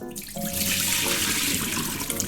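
A kitchen tap runs hard while soaked pork bones for Korean pork bone soup are rinsed, a loud continuous rush of water splashing that starts abruptly and stays steady throughout, with no talking.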